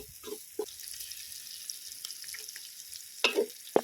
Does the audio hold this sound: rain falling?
no